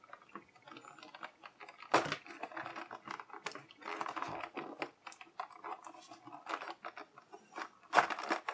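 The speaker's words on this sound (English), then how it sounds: "We got our handy dandy X-Acto knife." An X-Acto knife slices and scrapes through plastic toy packaging close up, in a series of short, dry scratching cuts with a couple of sharper snaps.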